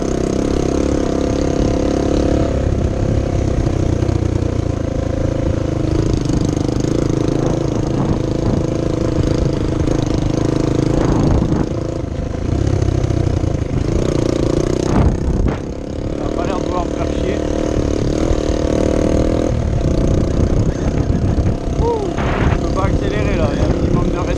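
Enduro motorcycle engine revving as the throttle opens, a loud, sustained mid-range roar with rising and falling surges, heard close up alongside wind and riding noise.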